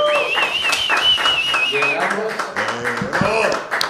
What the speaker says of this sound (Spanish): Recibamos con un fuerte aplauso con bombo y platillo.